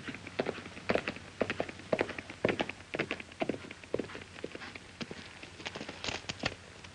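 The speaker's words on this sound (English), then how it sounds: "I hear a horse coming." Horse hooves clop in an irregular rhythm in the 1953 Western film Son of the Renegade, a series of sharp taps and thuds at moderate distance, fairly quiet and alone without voices.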